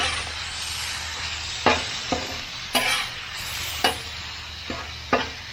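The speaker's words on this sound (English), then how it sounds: "you just want to keep moving it around. Make sure it gets evenly cooked." Chicken fried rice sizzling in a pan inside an RV kitchen, a steady hiss broken by several sharp scraping strokes of a spatula as the rice is moved around, close and alone.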